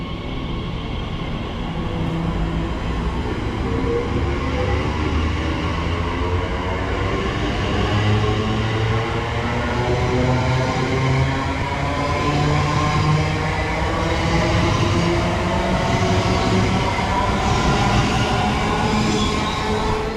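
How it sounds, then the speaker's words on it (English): A TfL Rail Class 345 electric train pulls away from a station platform, its rising motor whine and rolling rumble steady and loud, with faint rhythmic wheel clatter building as it departs. "Watch this train leave."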